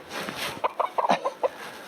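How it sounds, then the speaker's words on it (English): A friendly hybrid hen clucks close by, a run of about six short, clipped clucks in quick uneven rhythm after a softer rustling start. "And these hybrid hens are very friendly."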